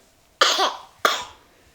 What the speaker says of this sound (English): Still got a little cough, man.